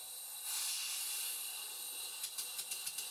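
A model steam engine running on compressed air, with a steady airy hiss throughout and a quick run of light rhythmic chuffs toward the end, all close and with no voices.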